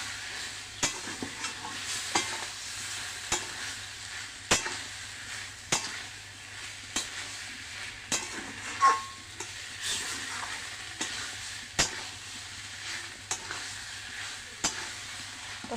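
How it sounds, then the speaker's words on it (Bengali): Mushrooms sizzle as they are stir-fried in a pan, with a constant frying hiss and a spatula scraping the pan every second or so, close and alone without speech. "এখানে মাশরুমগুলো এখানে দিয়ে দেবো, দিয়ে সুন্দর করে কষিয়ে নেব।"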